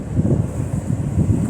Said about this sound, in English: the further I get to the top, the more windier it is getting